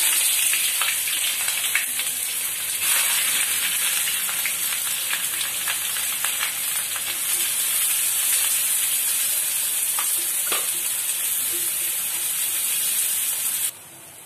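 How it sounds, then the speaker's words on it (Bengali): Loud, steady sizzling of sliced onions frying in mustard oil on a gas stove, a constant bright hiss with faint crackles that cuts off and drops near the end. "সরষের তেল দিয়ে বেরেস্তাটা ভেজে নেব।"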